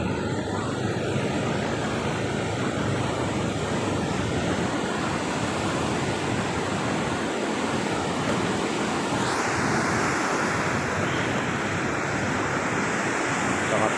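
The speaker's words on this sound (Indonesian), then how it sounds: "Sangat besar sekali ya airnya." Floodwater rushes in a loud, continuous roar, a broad steady wash of noise heard close and unbroken throughout.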